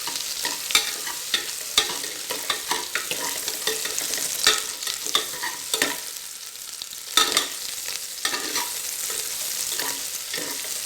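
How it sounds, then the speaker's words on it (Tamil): Onions sauté in an oily pan while being stirred for egg biryani, a continuous sizzle broken by frequent scraping strokes of a spoon, close and clear without any talking. "இது வதங்கினதும் வெங்காயம் நல்லா வதங்கிடுச்சுங்க."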